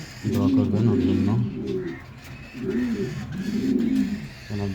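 Pigeons in a loft coo in soft, rolling phrases, two clear bursts separated by a short pause, close and fairly loud, with faint background noise.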